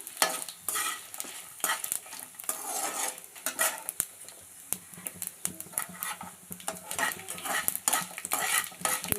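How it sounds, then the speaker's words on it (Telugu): Red chillies fry in a pan while a metal spoon stirs them, sharp irregular scraping and clinking strokes over a soft sizzle, close and fairly quiet, with no speech. "కొంచెం వేగనిచ్చి కొంచెం బ్రౌన్ కలర్ వచ్చిన తర్వాత తీసేయాలండి మిరపకాయలు"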